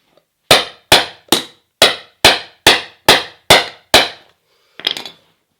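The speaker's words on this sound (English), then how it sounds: "Vice grips, punch, hammer this back down." Hammer blows driving a skateboard truck kingpin down through a punch, nine sharp, evenly spaced metallic strikes in a steady rhythm, close and loud, followed by a brief rattling clatter.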